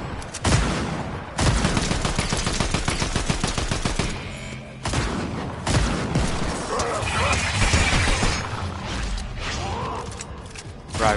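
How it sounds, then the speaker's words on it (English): Rapid bursts of gunfire in the video game Fortnite, loud and close, with long stretches of fast repeated shots broken by brief pauses and mechanical clicks, and a voice occasionally underneath. "you keep shooting it"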